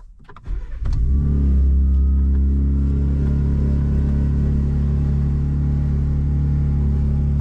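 Ford Raptor truck engine fires up after a brief rattle, then settles into a loud, steady idle rumble up close before a drive, with no talking.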